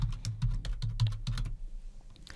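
Rapid, irregular keystrokes on a computer keyboard as a name is typed in, close and clear for about a second and a half before trailing off into near silence.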